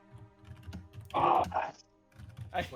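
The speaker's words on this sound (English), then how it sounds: "wait till Vlad's done typing" Computer keyboard typing clicks along, with a denser flurry of close keystrokes partway through, over faint background sound.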